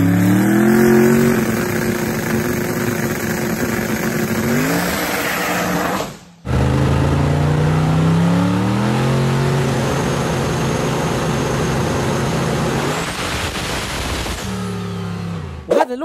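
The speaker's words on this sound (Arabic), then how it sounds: "هذول الاشخاص اللي قدروا يعدلوا هذه الكامارو بحيث صارت تقدر تقطع من 0 ل 100 كيلومتر بالساعه" A modified Chevrolet Camaro accelerates hard, its engine revving loudly through rising gear pulls with a brief cut between shifts, close and aggressive throughout with no voices.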